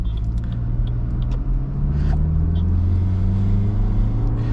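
A Toyota Glanza AMT hatchback, a rebadged Maruti Baleno, on a test drive, its steady engine hum rising gradually in pitch as it accelerates, heard from inside the cabin with road rumble underneath.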